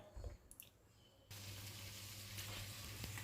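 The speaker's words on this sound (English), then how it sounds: "So I'm gonna add the vegetables, which I decided to use carrots and sweet potatoes." Chopped carrots and sweet potatoes hit a hot curry pan with onions and break into a steady, close sizzle after a brief quiet start, continuing evenly with no talking.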